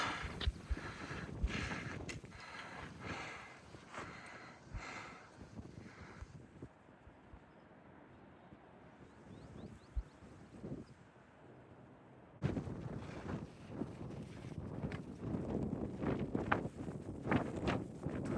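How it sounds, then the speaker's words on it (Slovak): Gusty wind on the Pacific Crest Trail buffets the microphone in uneven bursts amid light drizzle, easing to a quieter rush midway before picking up strongly again. "Trošku fúka."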